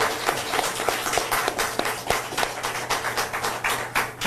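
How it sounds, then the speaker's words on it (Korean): Applause from the audience at a political press conference held by a presidential candidate, a steady dense patter of many hands clapping together close by for the whole stretch. "다시 한번 큰 박수 부탁드립니다."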